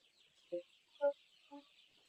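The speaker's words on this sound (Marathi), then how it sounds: "बाहेरचं वातावरण बघा ते कोंबडे कसे आरवतात बघा" Three short, clucking calls from roosters and chickens, evenly spaced about half a second apart over a steady, faint background hiss.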